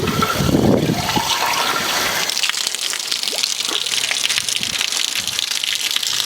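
Tap water gushes into a welded pipe in a loud, steady rush that stays continuous throughout, with a brief gurgle at the start and no voices.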